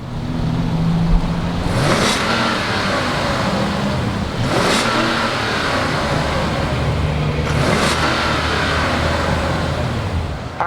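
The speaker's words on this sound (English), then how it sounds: "let's go ahead and fire up this 5-liter V8" A 5-liter V8 in a 2019 Genesis G90 idles and revs, rising in three distinct bursts about two and a half seconds apart, loud and close over a steady engine rumble.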